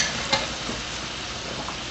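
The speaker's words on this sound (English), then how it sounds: "I'm going to add 1 heaping teaspoon of garlic. And that is just going to cook in that residual heat." A heaping teaspoon of garlic cooking in brown butter in a pan off the heat, a soft steady sizzle with a faint stirring scrape and a brief clink at the end.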